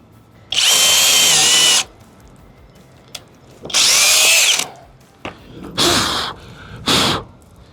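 A FLEX hammer drill in turbo mode bores auger holes, four loud bursts of drilling, the first two long and the last two shorter, separated by brief quiet gaps with faint clicks.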